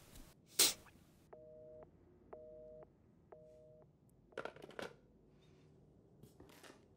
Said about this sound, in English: Like a phone call that happens